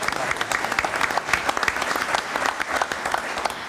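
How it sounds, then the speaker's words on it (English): An audience claps steadily, a dense patter of many hands applauding at even loudness from start to finish. "Now you can applaud."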